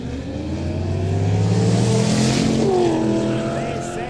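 A Holden VX race car accelerates hard along a track during a quick street day at Kooralbyn Valley, its engine note rising loud and sustained before another car passes, with a commentator talking over it.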